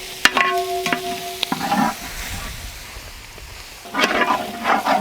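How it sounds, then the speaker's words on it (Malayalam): Onions and green chilies sautéing with salt in a pan, with scraping stirs and a short burst of sizzle at the start, then a quieter gap before more stirring and frying sounds near the end; no talk. "കുറച്ച് ഉപ്പ് കൂടെ ഇട്ട് കൊടുത്ത് ഒന്ന് വതക്കെടുത്ത് പെട്ടെന്ന് വതങ്ങി കിട്ടും"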